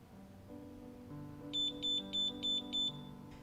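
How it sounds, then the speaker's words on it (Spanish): Laboratory reactor unit sounding its alarm when a 15-minute reaction time runs out during wastewater treatment testing: five evenly spaced high electronic beeps, clear and moderately loud, over a low steady equipment hum. "El equipo nos acaba de avisar con ese sonido que ha terminado el tiempo de reacción"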